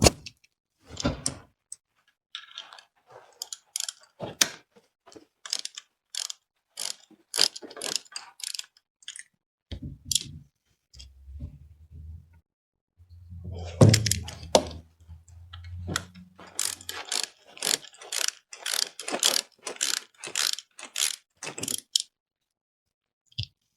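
Ratchet wrench on 10mm nuts holding the starter motor wires, rapid close clicking pawl strokes in repeated bursts, with brief pauses and a low knock midway.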